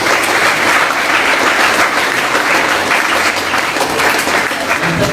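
Steady, dense applause from a sizable audience at an Islamic religious talk, continuous and loud for the whole stretch without a break.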